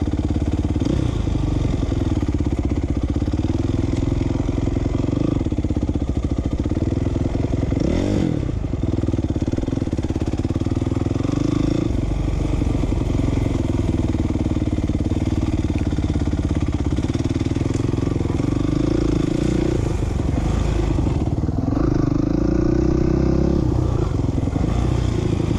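A motocross motorcycle being ridden at a motocross park roars loud and close the whole time, its engine rising and falling as the rider accelerates, with rattling clatter over the rough track and no talk.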